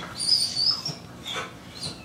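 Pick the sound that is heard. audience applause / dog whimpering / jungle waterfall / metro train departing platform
dog whimpering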